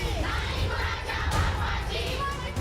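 Shiv Sena supporters celebrate in Mumbai, a loud mass of shouting and whooping voices that blend into a continuous crowd roar, close and energetic throughout.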